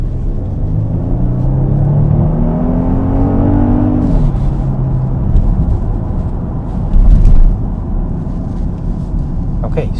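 A 2021 Genesis GV80 3.5T accelerates through a corner, its engine rumbling loudly with a rising then falling tone inside the cabin, steady and close throughout.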